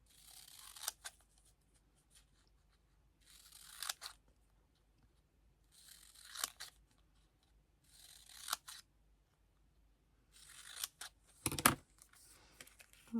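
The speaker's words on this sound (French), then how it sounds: "je vais prendre maintenant mon ciseau pour les découper" Scissors cutting diamond painting paper, several short snipping bursts spaced a few seconds apart, close and fairly quiet with near silence between cuts.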